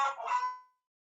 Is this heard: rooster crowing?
yes